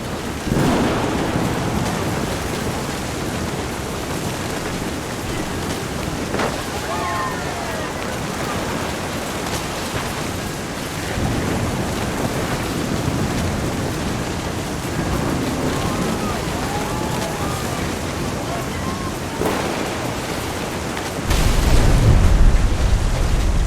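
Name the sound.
thunderstorm with rain and thunder in video game What Remains of Edith Finch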